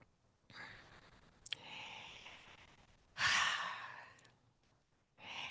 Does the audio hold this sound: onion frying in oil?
no